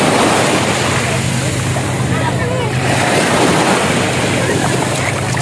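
Sea waves washing in at a beach in Batangas, a loud continuous roar of surf mixed with heavy wind buffeting the microphone, with faint voices in the background.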